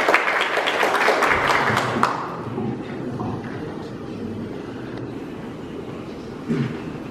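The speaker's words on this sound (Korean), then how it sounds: "여러분 박수 부탁드립니다" Applause from an audience at an exhibition opening ceremony at a gallery, a burst of clapping that fades after about two seconds, followed by quieter room noise and some murmuring.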